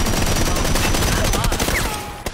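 Gunfire in PUBG during a four-player squad match on Xbox, a dense, continuous volley of shots with overlapping cracks that fades slightly at the end.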